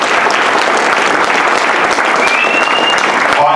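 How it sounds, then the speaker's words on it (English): Dense, steady audience applause at a Chanukah party, loud and continuous throughout with no pause, the whole crowd clapping together. "So please give yourselves a round of applause"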